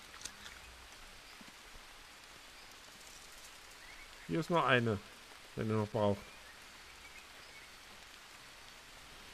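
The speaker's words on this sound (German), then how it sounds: "Es regnet doch gerade." Steady rain hisses down across the jungle in Green Hell, a soft even wash that runs the whole time while a voice speaks briefly near the middle.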